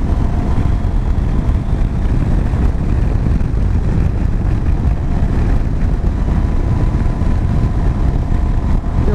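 KTM 790 Adventure motorcycle with LC8c engine ridden on country roads, a steady droning engine buried in heavy rushing wind noise, loud and unbroken, no talking.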